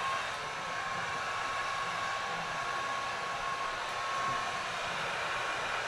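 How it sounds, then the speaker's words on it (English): A heat gun on medium heat, used to melt the strings on plastic Christmas ornament balls, blows a steady airy hiss, constant and fairly faint, with no talk. "I have a feeling I'm gonna need to put my heat gun maybe on a medium heat."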